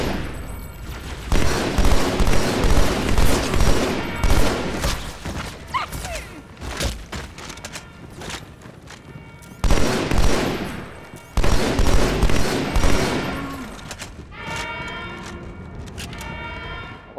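SMG fire in Halo 2 Anniversary, loud rapid bursts of automatic gunfire with thumps and explosions, in several sustained volleys separated by short lulls.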